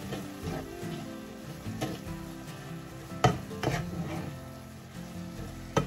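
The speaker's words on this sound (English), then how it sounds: "Just stir that on in nicely." Cajun shrimp with spices being stirred in a hot pan, a steady sizzle under repeated scraping strokes and a few sharp utensil knocks against the pan.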